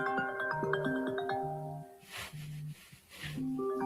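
A phone ringtone plays a stepped electronic melody of sustained tones, fairly quiet and steady, with a brief rushing noise partway through.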